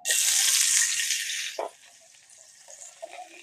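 Nalleru (Cissus quadrangularis) frying in oil in a pan, a loud hiss for about a second and a half that drops to a quieter sizzle with a few soft stirring clinks.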